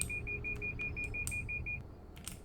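A collision warning in the Roblox game Greenville gives a rapid string of about a dozen evenly spaced high electronic beeps, then stops, over a low engine hum.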